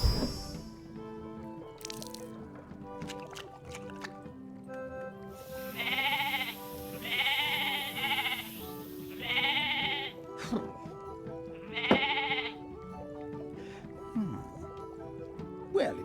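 Sheep bleating in the video game Wonderbook: Book of Spells, several short bursts repeating in a loose rhythm over a steady bed of game music, with a few brief wet squishing hits scattered through.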